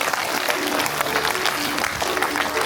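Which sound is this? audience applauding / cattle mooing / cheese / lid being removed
audience applauding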